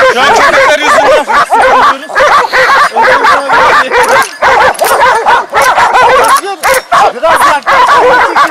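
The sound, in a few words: hunting dogs barking after a boar hunt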